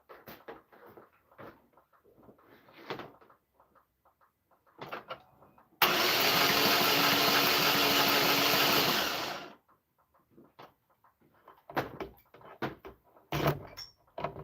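A 2012 Chevy Equinox 2.4 engine cranks steadily for about four seconds during a compression test. It makes a loud, even whirring churn, framed by scattered clicks and handling noises before and after.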